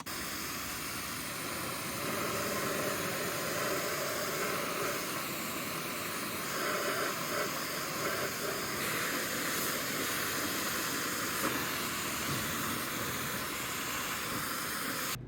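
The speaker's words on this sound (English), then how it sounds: "you wanna just spray it all over, especially that carburetor" Continuous loud hiss of a dollar-store degreaser sprayed all over a race quad's carburetor, a near, unbroken aerosol rush that runs for about fifteen seconds.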